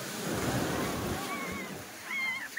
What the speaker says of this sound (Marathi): लाटा येतात ना लाटा